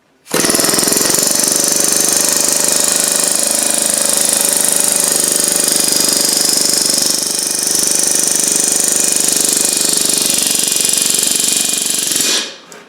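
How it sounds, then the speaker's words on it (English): An air chisel carving a grape leaf design into a stone block, a loud continuous pneumatic hammering buzz that runs nearly thirteen seconds up close before cutting off abruptly, with no speech. "we take our air chisel and our guide, and we start right here."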